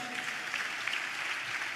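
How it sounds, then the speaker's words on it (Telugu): Steady, dense clapping from a church congregation during a sermon, evenly sustained for a couple of seconds with no voices over it. "చప్పట్లు కొడుతూ స్తోత్రాలు చెప్తా."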